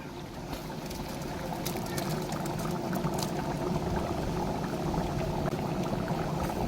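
A large pot of chicken gravy, about 15 kilograms of chicken, boiling hard over a fire, a continuous dense bubbling and churning roar, close and steady with no speech.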